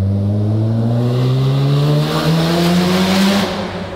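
A Mazda RX7 sports car accelerates hard, its engine note climbing steadily through the revs, loud and close, easing slightly at the end.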